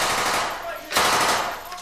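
Rapid bursts of blank-round gunfire crackle through a room during urban combat training, a dense volley with a sharp loud burst near the middle and a faint voice underneath.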